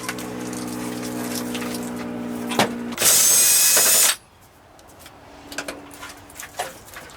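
A reciprocating saw cuts car body metal on a Ford Festiva's rear panel, with a motor hum rising into one loud, harsh, roughly one-second burst of cutting, followed by quieter clanks.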